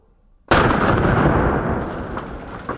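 A single loud 45-70 rifle shot bursts out after a near-silent moment and rolls into a long, booming decay that fills the rest of the moment.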